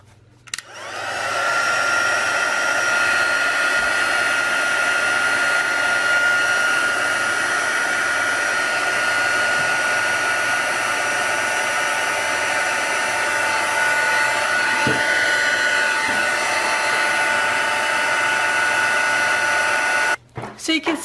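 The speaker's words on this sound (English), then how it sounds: "I'm going to heat that with a heat tool until that melts" A heat tool blows hot air to melt embossing on a salted watercolour craft tag, a loud continuous whooshing whine that switches on abruptly, holds steady for about twenty seconds, then cuts off.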